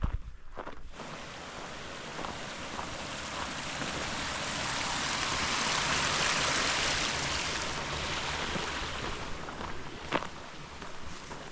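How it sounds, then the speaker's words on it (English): A waterfall in Glacier National Park on a morning hike toward Morningstar Lake, a steady full rushing roar of falling water that swells slightly mid-way and holds without talk. "Check out that waterfall."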